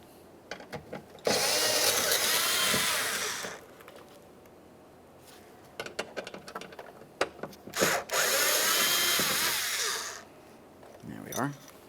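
A power drill backs Phillips head screws out of a door handle bracket on a 2015-2019 Subaru Outback, two loud sustained whirring runs separated by clicks and handling noises, close up.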